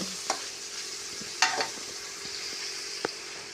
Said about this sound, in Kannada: ಕ್ಯಾಪ್ಸಿಕಮ್ ಹಾಕ್ಕೊಳ್ಳಿ ದಪ್ಪ ಮೆಣಸಿನ್ಕಾಯಿ ಇವೆರಡು ಚೆನ್ನಾಗಿ ಫ್ರೈ ಮಾಡ್ಕೋಬೇಕು